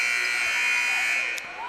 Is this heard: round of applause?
no